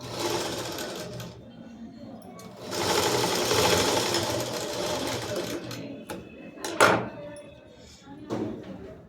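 A sewing machine runs in bursts while stitching a school dress, its steady whirring hum rising and falling between stops, with a few sharp clicks and knocks close by and quiet talking in the background.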